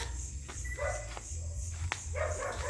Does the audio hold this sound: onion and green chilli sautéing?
no